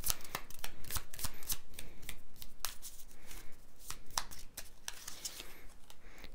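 Tarot cards shuffled and drawn from the deck in a fast, steady run of crisp riffling flicks and slaps, close and fairly loud, with no talking.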